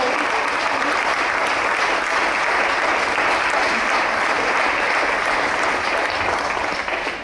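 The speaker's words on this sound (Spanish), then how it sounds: "Un aplauso para Manuela Ocejo, una resistente." Sustained audience applause at a talk about women under Francoism, a thick, even roar of many people clapping for the full length, fairly loud and without voices on top.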